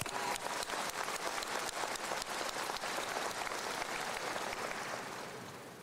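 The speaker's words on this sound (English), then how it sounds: "Can we give them a round of applause?" An audience at a high school commencement applauds in a broad, sustained wash of clapping that holds steady for several seconds and then begins to fade slightly at the end.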